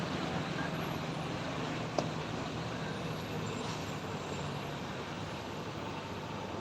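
A trailer truck rumbles along the steep, winding Sitinjau Lauik mountain road, a continuous heavy engine drone and road noise heard from roadside, steady and moderately distant with a single brief knock midway.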